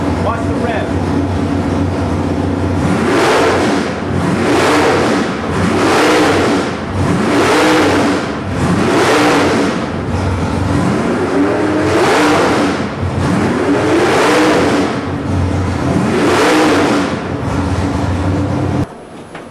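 Nelson Racing 441 cubic-inch small-block Chevy V8 with nitrous and a carburetor, revved repeatedly in loud, close, rising-and-falling roars over a rumbling idle, roughly eight throttle blips in a row.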